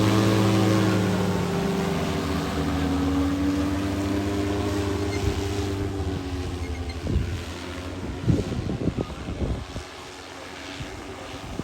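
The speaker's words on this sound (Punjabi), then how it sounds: "ਇਹਦੇ ਜਹਾਜ਼ ਤੋਂ ਵੀ ਜ਼ਿਆਦਾ ਸ਼ੋਰ ਹੈ ਦਾ।" An agricultural spraying drone flies over farm fields, its propellers a loud, steady droning hum with wind buffeting, the tone wavering and easing as it moves away, with no talk.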